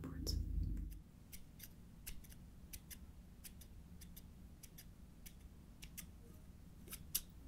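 Scissors snip hair in an ASMR haircut, with crisp, close, irregular clicks repeating throughout over a faint low hum, while someone speaks softly.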